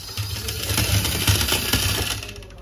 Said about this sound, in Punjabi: ਬਿਨਾਂ ਟਰੈਕਟਰ ਤੋਂ ਹੀ ਸੁਪਰ ਸੀਡਰ ਆਪਣਾ ਚੱਲਦਾ